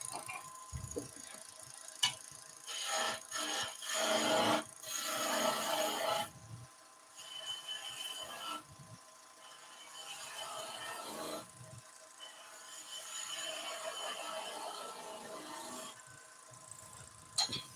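A skew chisel works a wooden tool handle spinning on a lathe, giving a soft, uneven scraping whir that rises in a louder burst early on, then settles into quieter, intermittent cutting.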